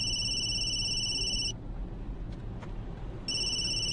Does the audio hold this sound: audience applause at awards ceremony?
no